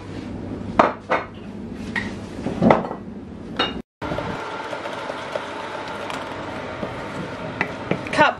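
Salted caramel topping being mixed with melted butter in a bowl: intermittent clinks and scrapes of a utensil against the bowl, fairly close, over a steady kitchen background hum.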